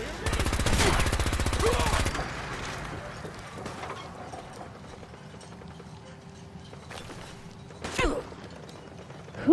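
Automated turret gunfire in Fallout 4 rattles out as a rapid, loud burst of shots for about two seconds, followed by quieter mechanical clatter and a sharp shot or impact near the end.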